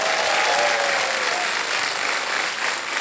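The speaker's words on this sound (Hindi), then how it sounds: "तालियां बज जाए इनके लिए।" Studio audience on a TV quiz show bursting into sustained applause for a contestant, a loud, dense, even roar of clapping with no talk over it.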